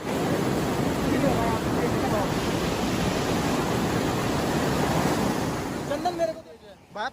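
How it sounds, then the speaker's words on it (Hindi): Fast, high river water rushing at Kimadi near Dehradun, a loud continuous broadband roar that fills nearly the whole stretch before dropping away abruptly near the end, where faint voices surface. "सही में बहुत तेज, बहुत तेज आ रहा पानी आ रहा।"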